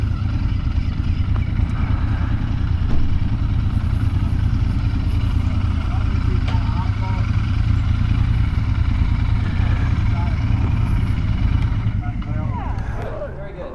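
A Royal Enfield Interceptor 650 motorcycle on a ride gives a smooth, steady low engine rumble throughout, with a voice talking over it.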